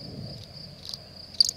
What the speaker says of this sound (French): Le grillon se met à striduler.